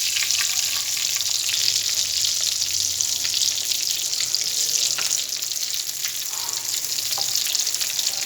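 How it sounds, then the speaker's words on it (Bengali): Breaded kebabs, dipped in egg and coated in biscuit crumbs, frying in oil with a loud, dense, continuous sizzle and a few faint clinks, close up and without talk. "এবার ওই কাবাবগুলো ডিমের গোলায় চুবিয়ে বিস্কুটের গুঁড়ো মাখিয়ে এই যে ভেজে নিচ্ছি।"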